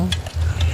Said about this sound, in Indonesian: terus kita aduk-aduk biar layu dia.